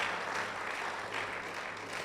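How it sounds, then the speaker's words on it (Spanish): A church congregation gives applause at an evening service, a quiet, steady wash of many hands clapping at a distance. "Denle ese fuerte aplauso al Señor esta noche."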